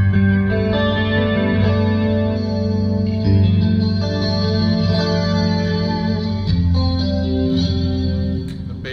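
Clean electric guitar through a Fender Twin amp patch with light compression, chorus, delay and reverb plays sustained, shimmering chords and ringing notes, steady and upfront with no talking.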